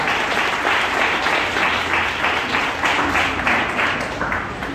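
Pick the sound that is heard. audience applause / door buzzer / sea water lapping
audience applause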